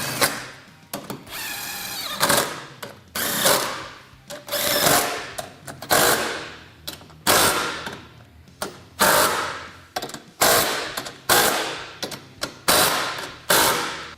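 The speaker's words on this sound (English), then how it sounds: "Then we'll just go ahead and tighten all the hardware here." A power tool tightens the mounting hardware of a Black Ops Series winch on a Kawasaki Teryx KRX 1000, sounding as loud, close whirring bursts about a second long, repeated a dozen times with short pauses, and no talk.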